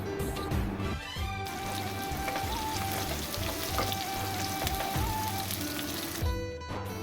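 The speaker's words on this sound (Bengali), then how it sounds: "আমি পেঁয়াজ দিয়ে নেবো দিয়ে পেঁয়াজটা একটু লাল করে ভেজে নেবো" A dense, constant sizzle of onions frying in oil with a cinnamon stick, close and loud, holding a steady crackling wash throughout, with a low background hum beneath it and no speech.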